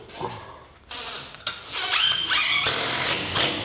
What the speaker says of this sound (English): Just want to get a fixing into the timber here to hold that on the wall.